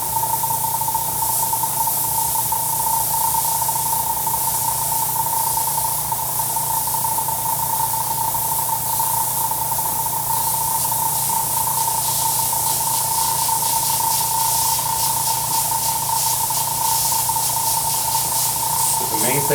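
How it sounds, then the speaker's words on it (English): An airbrush sprays paint onto a silver-painted skull, a continuous steady hiss with a constant tonal whine underneath, unbroken for the whole stretch at moderate loudness. "spray lightly because you can always come back and darken it"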